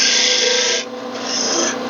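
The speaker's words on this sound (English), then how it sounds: "I'm going to slice right down into the V" A skew chisel slices a V notch into spinning wood on a lathe, giving a close, steady rasping hiss that eases briefly and then resumes, with no talk.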